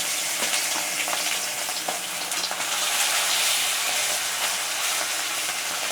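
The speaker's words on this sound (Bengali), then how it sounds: "কড়াইটা গরম তেল গরম হয়ে গেছে আমি মাছগুলো দিয়ে দিচ্ছি" Steady, loud crackling sizzle of bata fish frying in hot oil in a wok, a dense hiss with scattered pops running throughout without pause.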